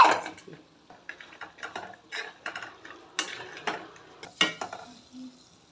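Chicken pieces frying with ginger paste in a pan for chicken pickle, heard as a series of close clattering stirs and scrapes of a utensil against the pan over a soft sizzle.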